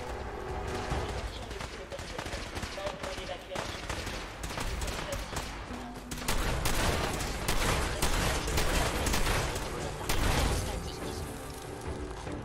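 Fallout 4 firefight, dense crackling gunfire with rapid bursts and distant shots continuing steadily, growing louder midway, while someone talks over it.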